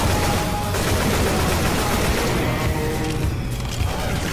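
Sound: gunfire in Left 4 Dead 2 (video game)

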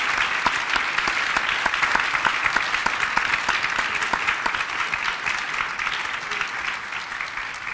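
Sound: audience applause

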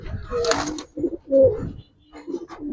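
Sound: Giribaz coloring pigeons cooing

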